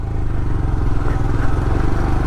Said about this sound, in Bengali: দেখা যাক রয়্যাল এনফিল্ড হিমালয়ান কীভাবে পারফর্ম করে